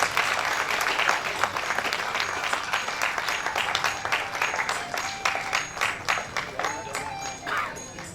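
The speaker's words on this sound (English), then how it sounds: "Let's give them a huge round of applause" Applause from an audience at a national MSME business convention, sustained dense clapping across the whole stretch with a brief louder swell midway, fairly close and steady, no voice over it.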